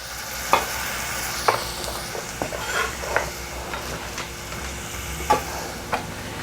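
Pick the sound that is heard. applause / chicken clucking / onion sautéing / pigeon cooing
onion sautéing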